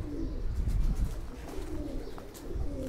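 A light-weight ferozpuri faqeergull mix-breed pigeon coos softly while being held in the hand, low murmuring coos repeating under a close, rustling background.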